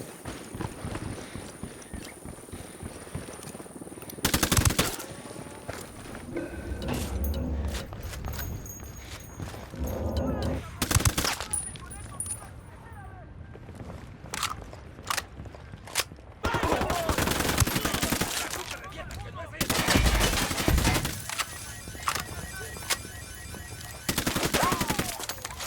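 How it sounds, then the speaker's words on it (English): Gunfire aimed at the players in Ghost Recon Wildlands crackles in repeated loud automatic bursts and single shots, close and harsh, separated by brief lulls across the whole stretch. "¡Alguien nos está tirando a matar!"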